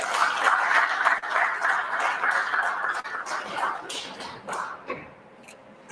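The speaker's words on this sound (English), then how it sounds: "Please clap for that." A workshop audience claps steadily for several seconds, a broad wash of many hands at moderate loudness that thins out toward the end, with a few sharper individual claps standing out.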